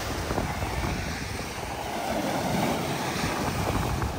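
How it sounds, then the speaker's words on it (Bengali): Sea waves roll in at the Messila seaside in Kuwait, a continuous rushing wash of surf mixed with strong wind buffeting the microphone. The roar stays broad and steady, without voices. "আজকে সাগরের ঢেউটা মোটামুটি অনেক ভালো, মোটামুটি অনেক সুন্দর লাগতেছে সাগরের ঢেউটা"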